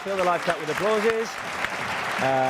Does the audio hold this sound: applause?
yes